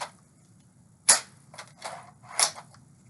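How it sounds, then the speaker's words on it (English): Sharp mechanical clicks from the cocking and firing mechanism of a Rifle No.4 prop, three or four distinct snaps close by over a quiet background, with one crisp crack standing out. "the cocking and firing mechanism is correct"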